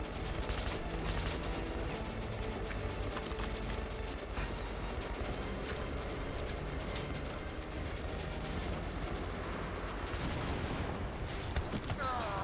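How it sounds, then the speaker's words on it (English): Dense, continuous gunfire in the Metro Last Light video game, a sustained fusillade of rapid shots layered with mechanical clatter, loud and unbroken through the whole stretch. "Stop shooting me!"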